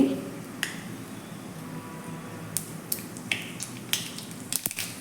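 Mustard seeds splutter in hot oil: scattered sharp pops and crackles over a steady low sizzle, sparse at first then clustering toward the end, close by with no talking.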